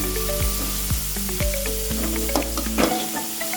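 Egg sambar ingredients fry loudly in a pan until they turn reddish, with a constant close sizzle and periodic scrape-and-stir sounds.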